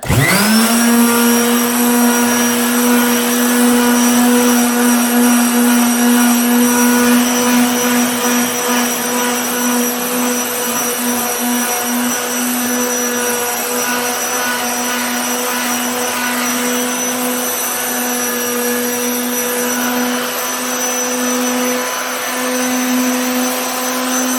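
A BAUER 2.2 amp orbital quarter-sheet sander runs steadily and loudly on its own after switching on, a continuous high whine with a strong buzzing hum that holds the same pitch throughout.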